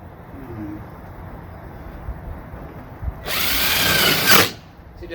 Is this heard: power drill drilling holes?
yes